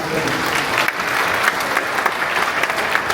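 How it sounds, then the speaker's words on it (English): Audience at an angel investor summit breaking into sustained applause for the participating investors, a dense, continuous wash of many hands clapping throughout with faint crowd murmur beneath. "So thank you to all the angel investors who participated this year. A round of applause."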